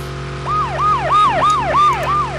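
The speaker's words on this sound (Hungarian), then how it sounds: "Kibassza a hang fülemet az a izé, sziréna az meg." A police siren from the racing video game USA Racer wails in steady, rapid rising-and-falling sweeps, loud and close, repeating about five times over a constant engine-like hum.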